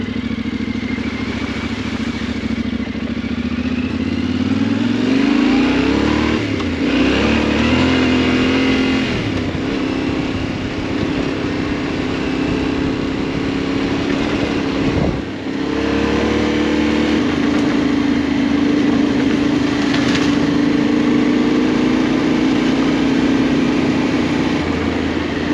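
An off-road motorcycle engine drones steadily and loud, close by, with rising and falling revs and throttle blips as the bike rides over rough terrain, constant engine noise throughout with no talking.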